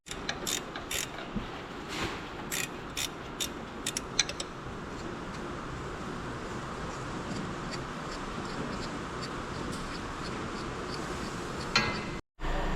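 Ratchet tool clicking in rapid bursts while gearbox bolts are cracked loose on a Scania G410 truck, close metallic ratcheting over a steady background hum, without talk.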